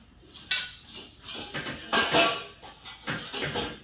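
Batter for a pumpkin dark chocolate snack cake is scraped from a bowl into a greased baking pan. Clattering clinks and scrapes of a utensil against metal and bowl come in irregular bursts, close and fairly loud, with no talking.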